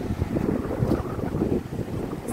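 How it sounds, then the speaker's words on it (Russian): Strong gusting wind buffeting the microphone, a dense low rumble that roars continuously, loud and close, with no voices. "У нас такой ветер сильный"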